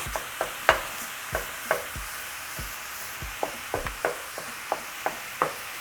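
Ground beef and sausage frying in a pan with seasonings, broken up as it cooks: a steady low sizzle under repeated sharp scrapes and taps of a utensil against the pan, fairly close and moderately loud, with no talking.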